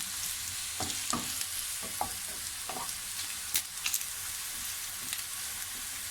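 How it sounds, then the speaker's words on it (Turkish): Garlic sizzles steadily in a hot pan and is stirred with scraping, clacking spatula strokes, recorded up close with no talking. "Şimdi sarımsağımı atıyorum. Biraz sarımsakla bir çevireceğim böyle."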